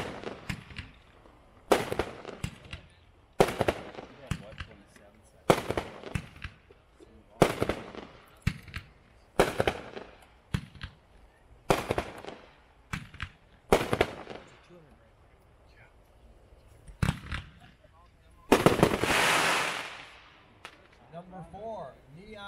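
An 11-shot Blossom firework cake from Hot Fireworks goes off at a demo, a run of sharp, loud bursts at roughly even intervals, ending in a longer crackling, hissing shower.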